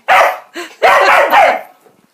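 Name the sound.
dog barking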